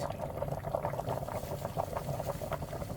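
Akparata dropped into heated cooking oil, giving a steady bubbling sizzle with small irregular pops, moderately loud and continuous throughout.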